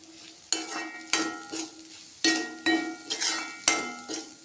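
Drumstick flower thoran with grated coconut stirred in a pan: irregular scraping strokes and light metallic clinks of a spoon against the pan over a faint sizzle, close up with no talking.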